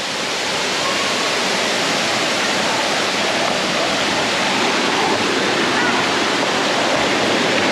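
Balagbag waterfall in Real, Quezon roars as a loud, constant wash of falling water, close and unbroken from start to finish, covering any other sound.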